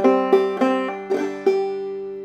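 Clawhammer banjo picks out one measure of the fiddle tune Cold Frosty Morn, with five or six crisp, bright note attacks over sustained ringing strings, played solo and close.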